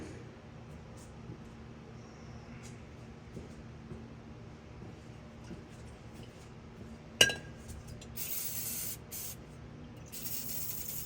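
Kroil penetrating oil sprayed onto a bus front axle, a sharp metallic clink followed by several hissing spray bursts from an aerosol can, close and moderately loud after a quiet stretch, no talk.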